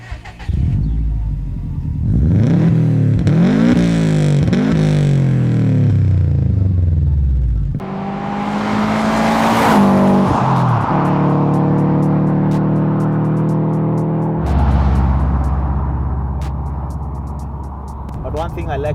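Modified Subaru Impreza GD driving, its engine rising and falling through revs with gear-change dips and a steady cruising drone, while people talk over it inside the car.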